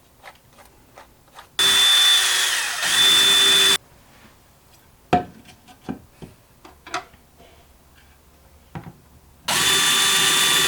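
A power drill with a 3mm bit bores into a wall for plant shelf screws in two loud, steady bursts of whining motor, separated by a stretch of scattered knocks and handling clatter.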